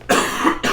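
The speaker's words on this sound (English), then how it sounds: "I need to cough again" Two harsh bursts of coughing from one person, the first longer and rough, the second starting sharply after a short gap, loud and close.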